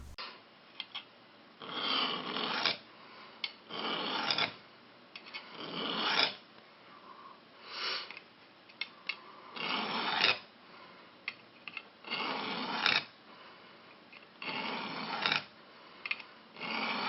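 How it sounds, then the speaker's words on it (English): A knife edge, roughed up on a concrete slab, is drawn repeatedly through a Redi Edge Tactical Pro sharpener, giving rhythmic rasping strokes with short pauses between them, close and fairly quiet with no talking. "So let's see how this sharpener does."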